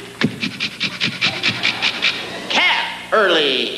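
A voice imitates a happy dog panting, rapid rhythmic huffs close to the microphone, followed by a couple of longer whining yelps.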